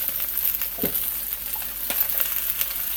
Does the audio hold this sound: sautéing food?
yes